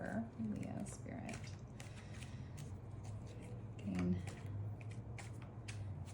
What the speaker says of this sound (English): Just shuffle 9 more times.